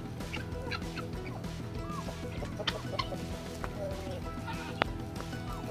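Chickens in a coop, including Brahma hens, cluck and murmur steadily at a low, fairly distant level, with a few sharper squawks breaking through near the end.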